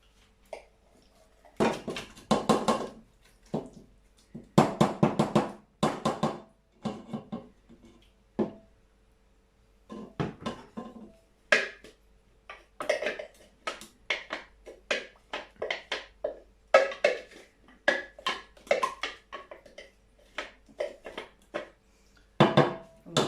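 Blackcurrant jam jars being set into a camping canner produce a run of clinking glass and metal knocks, some in quick clusters and others spaced apart, close by and fairly quiet, with no talking.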